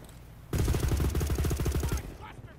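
A drum-magazine gun fires a long, rapid, evenly paced automatic burst for about a second and a half in the shooter game World War 3, set in Warzone Berlin. The burst is loud and close, then cuts off into quiet.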